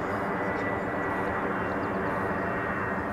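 A radio-controlled model plane engine at low throttle gives a steady, continuous droning hum that holds at an even level throughout, with no talking over it.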